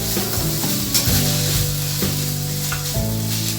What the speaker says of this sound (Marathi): आणि आता त्यामध्ये राहिलेला भात घालतोय आपण। आणि तो पण परतून घ्यायचा आहे।